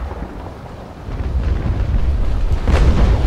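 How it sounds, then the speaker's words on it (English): A ship's cannon firing a ranging shot in the naval combat game Naval Action: a loud, rumbling boom that swells over a few seconds amid steady wind and sea noise. "If I hit space, I can actually fire a ranging shot"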